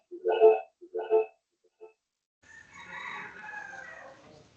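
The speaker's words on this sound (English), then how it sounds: "the rooster went" A rooster crows twice in close succession, fairly loud and near, followed after a short pause by a softer, muffled stretch of background sound.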